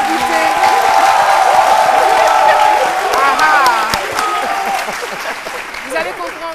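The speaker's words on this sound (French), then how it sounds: "des applaudissements pour notre invité" Loud studio audience applause with cheering and a few whoops for a guest on a midday television show, dense clapping that fades toward the end while voices talk over it.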